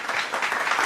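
A brief burst of crowd applause, dense steady clapping heard close and without talk.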